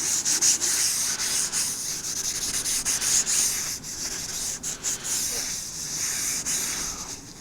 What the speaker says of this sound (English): I take my kitchen towel and just get rid of all that excess. Really give it a good wipe.